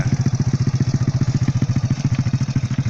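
Motorcycle engine idling close by on a rural post-earthquake relief trip in Mamuju, a loud, even, rapid putter with regular thumping pulses throughout.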